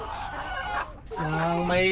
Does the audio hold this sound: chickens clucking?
yes